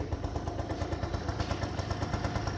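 Small motorcycle-type engine running after a start, a rapid steady clatter with slight throttle blips, close and loud with no talk.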